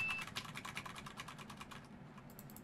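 Rapid, crisp plastic clicks and taps in a quick irregular series, close and fairly quiet, with faint background hiss.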